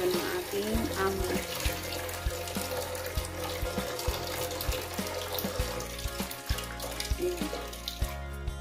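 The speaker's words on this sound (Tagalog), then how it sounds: "Lagyan natin siya ng tubig." Water runs from a tap into a container to fill a display during household cleaning, a steady rushing flow with faint clinks, under a low background hum.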